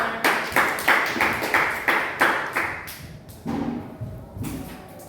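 A class claps together in a series of sharp, loud rhythmic bursts after a group presentation, about eight evenly spaced claps, then a pause and a few softer, scattered claps.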